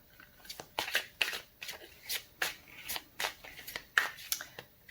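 Tarot cards shuffled and drawn by hand: a run of crisp papery riffles and flicks, about a dozen short bursts in an uneven rhythm, close and fairly quiet, with no voice.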